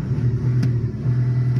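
A 2020 Audi SQ5 with a 3.0-litre V6 diesel mild-hybrid engine and exhaust sound actuator idles in a deep, steady rumble with a brief rev swell, heard up close for a moment.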